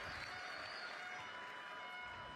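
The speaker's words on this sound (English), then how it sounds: "You can hear the crowd." Basketball crowd at a FIBA World Cup European qualifier game between the Netherlands and Croatia, a steady broadband roar of cheering spectators filling the arena, fairly distant and even throughout.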